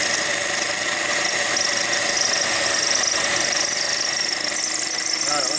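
A power drill bores into material for a Honda Silverwing GPS and phone mount, a steady loud high-pitched whine and squeal held continuously throughout at close range.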